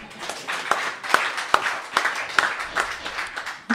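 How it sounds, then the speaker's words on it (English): Scattered audience applause at a live radio studio music session with a band, sparse individual claps popping out at an uneven rhythm, fairly close and moderate in level. "So big round of applause for that."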